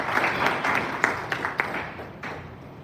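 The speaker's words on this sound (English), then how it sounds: "Can you clap for her?" A small audience claps together in a short burst of scattered, uneven hand claps that thins out and fades within a few seconds.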